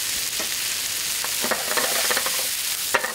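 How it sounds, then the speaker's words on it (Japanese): Minced garlic stir-fries in a pan with a continuous bright sizzle, broken by scattered scraping and tossing strokes close by. "ここでよく一度炒めてください"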